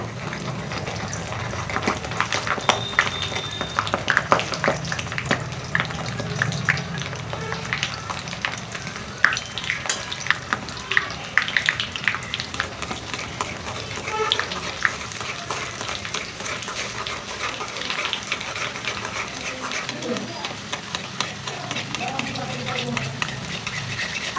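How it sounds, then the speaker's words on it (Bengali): Nimki snacks deep-fry in hot oil with a steady, dense sizzle and crackle that continues throughout, close up, with occasional stirring and a voice speaking faintly underneath. "এবার আমি নিমকিগুলা দিয়ে দিচ্ছি খুব অল্প আচ্ছা আচ্ছা ভাজবো"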